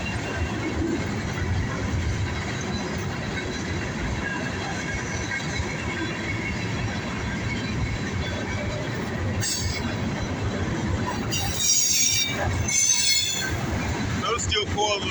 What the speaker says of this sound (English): Wow, he's picking up speed.